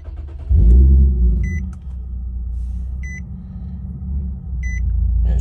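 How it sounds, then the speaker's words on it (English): A Nissan 370Z engine cranks and catches, then settles into a low steady idle rumble, with a few short electronic chimes from the dash sounding at intervals over it. "and then you start up your car"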